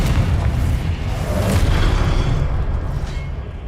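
A Confringo spell explosion in the Hogwarts Legacy video game, a loud, dense, rumbling boom that fills the whole stretch with heavy low-end roar and debris-like crackle.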